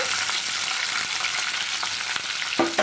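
Green chillies frying in hot oil in a pan for a cucumber and peanut chutney, giving a loud, steady, close hiss of sizzling with a couple of soft knocks near the end and no voices.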